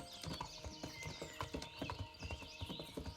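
Horse hooves clip-clopping at a steady riding pace in the medieval game Kingdom Come Deliverance, close and rhythmic, with repeated hoof strikes over a faint layered background, no talking.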